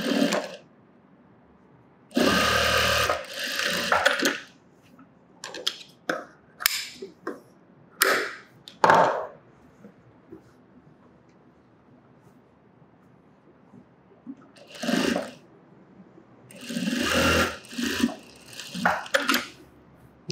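A tailor's sewing machine stitches a sleeveless top in short, loud bursts of running separated by quiet pauses and scattered handling clicks, close by.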